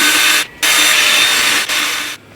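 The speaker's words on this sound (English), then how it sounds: "So this is like a little rough sanding disc thing." A rough sanding disc on a power tool grinds at a wheel for a 1995 Toyota MR2, a loud, close, steady whirring rasp that cuts out briefly twice before ending.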